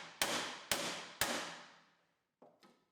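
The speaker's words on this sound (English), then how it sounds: "Use a hammer to break some of the welds." A hammer strikes the welds on a 1965 Mustang car body three times in quick succession with sharp ringing metallic hits, then gives two lighter taps after a short pause. The strikes are close and loud.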